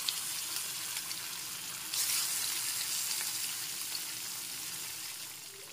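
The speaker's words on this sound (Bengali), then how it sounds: "এখন তেল গরম হয়ে গেছে, এবার মাছগুলোকে ভেজে নেব।" Mrigal carp pieces fry in hot oil over a high gas flame, a steady hiss of sizzling that swells suddenly partway through and continues at a moderate, even level.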